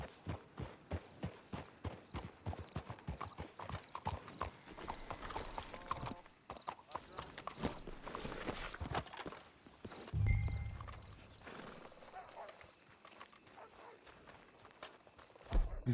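Horses' hooves clip-clop at a steady walking rhythm on a trail in Red Dead Redemption 2, with a whinny and snort partway through, a voice speaking faintly, and the hoofbeats slowing toward a stop.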